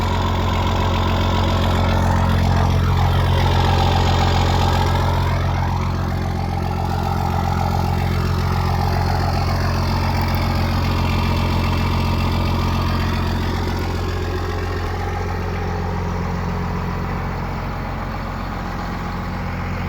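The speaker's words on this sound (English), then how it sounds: "Little exhaust note." A Dodge Power Wagon pickup truck's exhaust burbles at idle with a deep, steady throb, loud and close, while the tone shifts slowly as the microphone moves around it.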